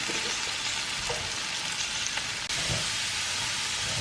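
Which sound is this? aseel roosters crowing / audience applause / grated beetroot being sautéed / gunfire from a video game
grated beetroot being sautéed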